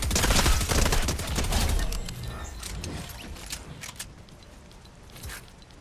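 Gunfire in the Fortnite video game, a dense burst of rapid shots up front that thins into scattered, more distant shots and faint mechanical clicks.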